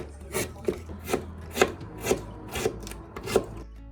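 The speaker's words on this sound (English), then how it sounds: "I'll chop up some ginger" Fresh ginger being chopped with a knife on a cutting board in a home kitchen, a series of about eight evenly spaced, crisp knocks, close and clear, with no talk.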